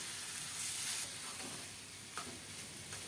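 Fresh spinach hitting garlic frying in hot oil, giving a loud, close, continuous hiss and crackle that swells briefly and then settles into a steady sizzle, with no voices.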